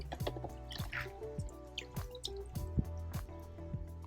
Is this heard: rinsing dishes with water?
yes